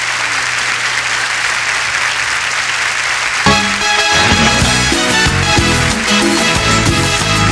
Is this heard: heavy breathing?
no